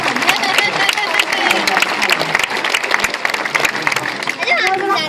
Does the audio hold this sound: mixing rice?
no